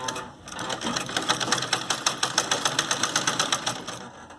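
A sewing machine stitches fabric for a Punjabi suit, running in a steady rapid chugging rhythm of even needle strokes for about four seconds before stopping.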